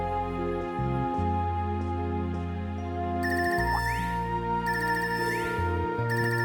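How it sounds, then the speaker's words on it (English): A synthetic phone ringtone in a video game (Trails of Cold Steel III) plays a repeating electronic melody, loud and close, with bright chiming tones cycling over steady low notes. "This ringtone, I haven't heard this before."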